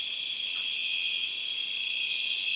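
A continuous, even cricket-like chorus of night insects, produced by electronic circuits, fills the whole stretch as a steady high trill with no pauses or voices.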